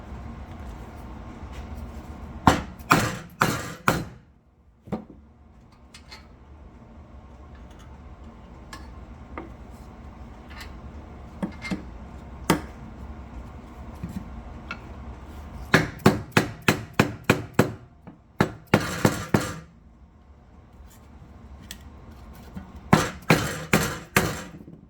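An impact wrench drives bolts into a Lexus LS430 rear steering knuckle, firing in several loud, rapid rattling bursts separated by quieter pauses, close up in a workshop setting.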